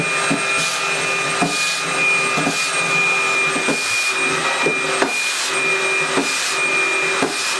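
A Tineco cordless vacuum cleaner runs on its higher power setting with a loud, steady whine. Repeated rhythmic scraping strokes of the head being pushed back and forth sit over it, with no talking.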